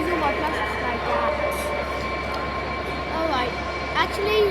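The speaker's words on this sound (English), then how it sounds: "I don't know why the diesel train had arrived" A diesel train arriving at York station, a steady engine drone with tonal whines and faint squeals running under the whole stretch, moderately near, with no voices.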